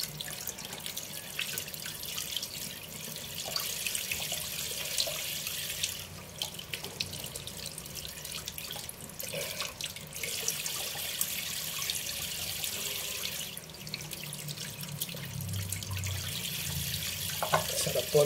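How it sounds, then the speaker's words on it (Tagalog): Tap water runs steadily into a sink while a melon is washed under it, a constant splashing rush with small drips and shifts in the flow and no voices. "Hugasan ko po muna."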